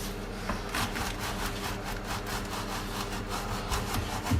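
A trowel or scraper working BAL Quickset render to level it, giving a steady, close, rhythmic rasping scrape that carries on continuously without a break.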